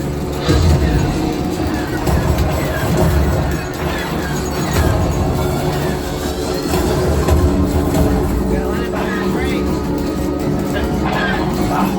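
Steady rumbling train noise with rhythmic rail clatter fills the whole stretch, loud and continuous, with voices and game effects from Millennium Falcon: Smugglers Run mixed in.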